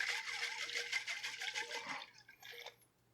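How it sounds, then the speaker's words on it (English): Water sloshing and rattling inside a glass honey jar of crystallized honey as it is shaken hard, a steady rhythmic churning for about two seconds, then a few fainter splashes before it stops. "Add a little water. Shake the bejesus out of it."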